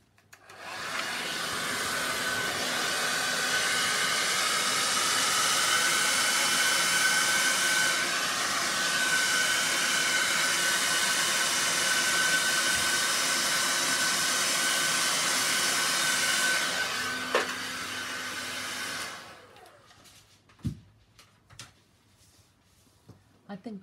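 A hair dryer blows steadily on wet watercolour paint for about seventeen seconds, a loud even whoosh that then cuts off, leaving faint handling sounds.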